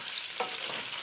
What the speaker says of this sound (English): so just sauteing this, frying it up in the bacon